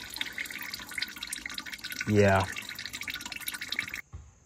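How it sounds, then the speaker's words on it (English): Engine coolant gushes out of an Audi A4 B7 2.0 TFSI once a bolt is removed during turbocharger replacement, a brief rising gurgle of pouring liquid under a steady background of talk. "it's going to start pouring coolant"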